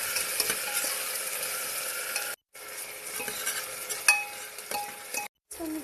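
Onion, bay leaf and garlic-ginger paste fry in a pan and are stirred, giving a steady sizzle broken by scraping strokes and light metal clinks, with two brief drop-outs.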